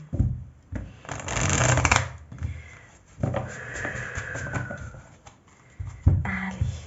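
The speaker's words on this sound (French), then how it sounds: "je vais bien mélanger les cartes." Tarot cards are shuffled close up in several brisk bursts, soft riffling and slapping with short pauses between, no voices.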